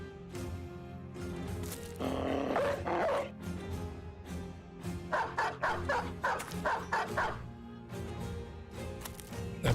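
War dogs bark and yip in the Battle Brothers video game, with rapid clusters of snarling barks over rumbling battle noise and a background music bed.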